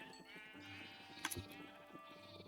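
A single sheep bleat from the Minecraft video game rises briefly and fairly softly over a quiet bed of game ambience, with no one talking.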